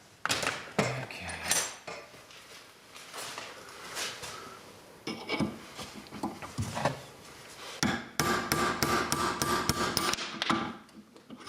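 Sharp metallic hammer blows strike a punch to drive a spring pin out of a Kubota BX snowblower gearbox, with scattered single hits followed by a fast, loud run of ringing strikes near the end, with no speech.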